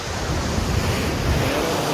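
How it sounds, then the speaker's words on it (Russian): Black Sea waves roll onto a hotel beach at Sochi in a continuous, loud wash of surf, mixed with gusty wind buffeting the microphone. "Море волнуется."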